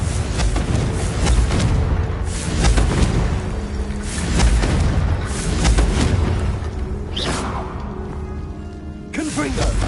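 Confringo spells burst repeatedly in Hogwarts Legacy, a run of loud booming blasts and crashing impacts one after another, with talking mixed in throughout.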